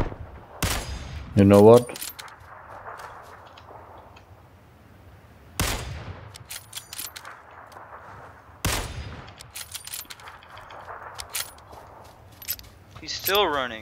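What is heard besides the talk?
gunfire in the video game PUBG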